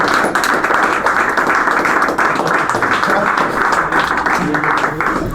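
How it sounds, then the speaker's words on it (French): Indoor crowd at a football tournament draw in Saubrigues clapping, a dense, steady round of applause from many hands close by that keeps going for the whole stretch. "Vous pouvez applaudir."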